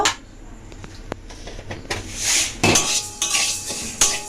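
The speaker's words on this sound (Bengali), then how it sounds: "মুগের ডালটা শুকনো খোলায় ভেজে নেব" Moong dal dry-roasting in a dry pan, the lentils stirred with a utensil: close scraping, rattling and clinking of metal against the pan, with louder stirring bursts in the second half.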